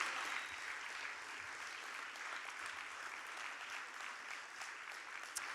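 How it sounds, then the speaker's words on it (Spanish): A church congregation applauds during a Spanish-language sermon, a steady, even wash of many hands clapping at a distance, sustained without pause. "¿Y por qué no le das un fuerte aplauso a nuestro Dios?"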